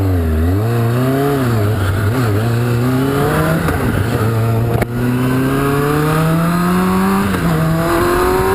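Motorcycle engine revving loudly and steadily as the bike is ridden, pitch climbing and falling through gear changes with constant wind roar, close and continuous.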